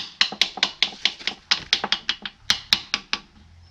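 Bolts are hammered out of a wooden trailer's wheel, a rapid series of about twenty sharp metallic taps in an uneven rhythm, close and distinct, each strike ringing briefly before the next.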